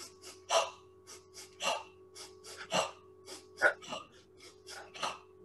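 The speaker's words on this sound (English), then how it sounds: "another shaman breathing technique that goes like this" Shamanic breathing exercise with a double inhale through the nostrils: a series of sharp, close nasal sniffs and breaths in quick paired bursts, repeated rhythmically with no talking.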